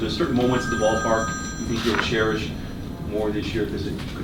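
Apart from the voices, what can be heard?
phone ringing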